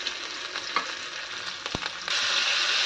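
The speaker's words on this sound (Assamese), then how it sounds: "এইফালে মই পিঁয়াজ আৰু জলকীয়াখিনি ফাৰ্ষ্টতে ভাজি লৈছোঁ ধুনীয়াকৈ" Onions and green chillies fry in mustard oil with a steady close sizzle and a sharp knock of a stirring utensil. The sizzle swells louder and hisses more brightly toward the end.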